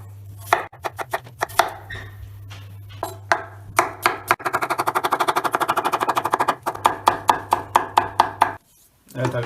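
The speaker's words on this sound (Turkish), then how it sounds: "Burada patateslerimizi ince ince kibrit şeklinde doğrayacağız." A knife chops potatoes into matchsticks rapidly and steadily on a cutting board, a long run of crisp close taps in quick rhythm with brief pauses.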